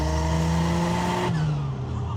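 Turbocharged Jeep engine pulling at half throttle on a fresh tune, a loud steady drone that shifts pitch partway through as the engine note changes, heard up close with no talk.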